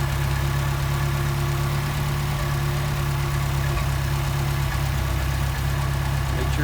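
Engine fitted with a Solex carburettor running steadily at a high idle, a constant close drone with no variation in speed throughout.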